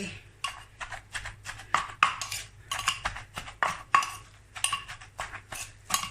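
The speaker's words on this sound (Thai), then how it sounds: "แล้วก็ขยับถาดนิดนึง" Metal tray clattering and scraping against pans and utensils while cooking bamboo shoot and three-layer pork in leaves, a string of sharp close clinks and knocks in irregular bursts, with no talking.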